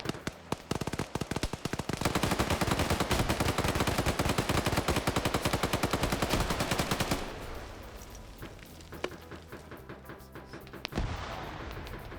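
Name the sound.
gunfire from a video game, 7.62 rifle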